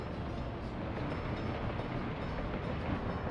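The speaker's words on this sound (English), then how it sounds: "here train's moving" A train rolls along in the Soviet city-building game Workers and Resources: Soviet Republic, giving a steady, continuous rumble of moving rail cars at a constant level with no speech over it.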